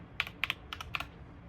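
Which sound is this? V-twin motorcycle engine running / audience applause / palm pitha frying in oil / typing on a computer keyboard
typing on a computer keyboard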